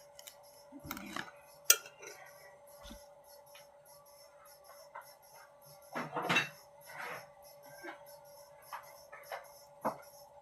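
Steamed bitter gourd (ampalaya) leaf salad being mixed in a bowl, scattered clinks and scrapes of utensils against dishware, brief soft knocks and clatters between quiet stretches.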